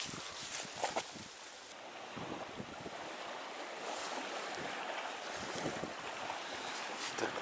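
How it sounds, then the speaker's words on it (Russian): Strong wind gusts roar continuously outdoors during a rainy burbot fishing trip, buffeting the microphone in steady, loud surges. "ветер что-то такой поднялся"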